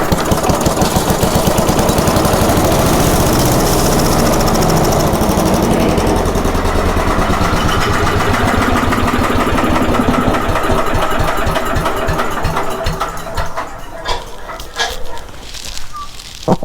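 Loud, close two-stroke engine on an MTD wood chipper running off choke, rattling steadily at high revs, then dropping and sputtering unevenly in the last few seconds.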